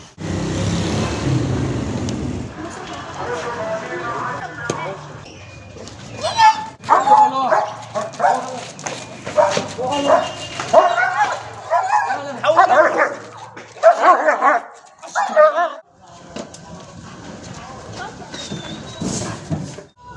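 A dog barks in repeated loud bursts through the middle of the scene, mixed with voices talking nearby.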